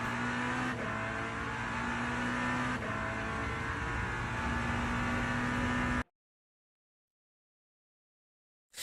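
Race car engines from a racing video game featuring Glickenhaus and Vanwall hypercars drone steadily with sustained tonal whine and a gear shift, then the sound cuts out to silence.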